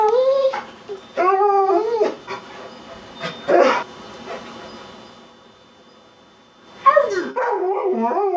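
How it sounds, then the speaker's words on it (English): Dogs bark, whine and howl in a varied mix of vocalizations, with short yelps and drawn-out howling tones coming in bursts, fairly loud and close, with a quieter pause in the middle before the howling picks up again. "all these different noises dogs make."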